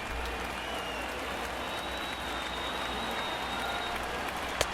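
A baseball stadium crowd of over 39,000 stands, cheering and applauding. The sound is a broad, distant, steady roar of clapping that fills the space without pause.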